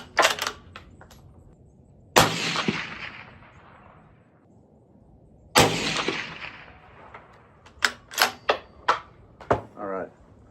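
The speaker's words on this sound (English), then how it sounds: "before I shot that second round of shots" Loud, sharp rifle shots from a Ruger Precision Rifle in 6.5 Creedmoor crack out, two spaced blasts with long ringing decays, followed by a quick cluster of sharper impacts or clicks near the end, with some talking in between.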